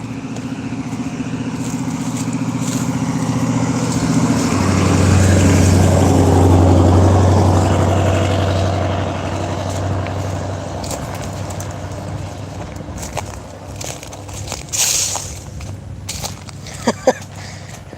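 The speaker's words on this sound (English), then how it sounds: "Thank God for loud trucks, otherwise I would have missed them." Loud trucks pass along a roadside, their deep engine rumble swelling to a peak midway and then fading into a steady traffic drone.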